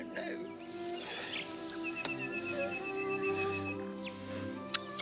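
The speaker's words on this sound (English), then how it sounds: "nightingales." Nightingales singing in an English countryside setting, faint whistled phrases and chirps at a distance, partly mixed with a soft background hum.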